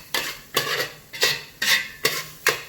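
Onions cook in a pan with a soft sizzle, broken by about six rhythmic scraping stirs at roughly half-second intervals, close and fairly quiet, with no one talking.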